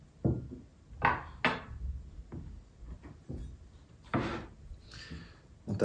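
A knife cuts a slice from a loaf of homemade spelt wholemeal bread, making a series of short, crisp rasping strokes at an uneven pace, close and fairly quiet, with no talking.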